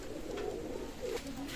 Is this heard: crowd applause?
no